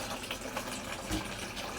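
A coin-operated water vending machine pours water into a bucket, making a steady, moderately quiet gushing stream that runs continuously with a slight bump partway through.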